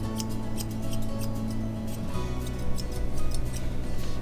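Scissors trimming the paw hair of a Maltipoo dog, a rapid series of small crisp snips close by over a low steady background hum.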